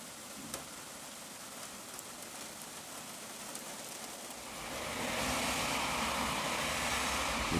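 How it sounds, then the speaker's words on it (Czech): Steady rain hisses on a surface during a Sunday thunderstorm, growing noticeably heavier and louder partway through, with no voices. "To začíná víc pršet hezky."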